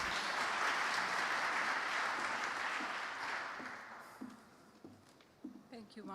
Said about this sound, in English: So, big applause for Ranjit.